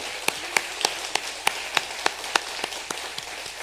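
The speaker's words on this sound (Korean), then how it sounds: "격려의 박수를 한번 보내도록 하겠습니다" Sparse, separate claps from a church congregation during a Sunday service, each a sharp crack at an irregular, slow pace, like a few people applauding scattered around the building.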